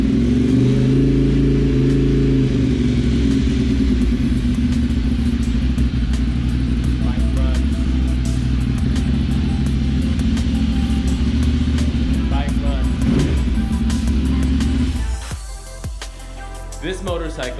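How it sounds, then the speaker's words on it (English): A Ducati Monster 696 motorcycle engine runs steadily and loudly at idle with a deep, continuous rumble, then drops off abruptly near the end as the engine is cut. "this motorcycle freaking runs."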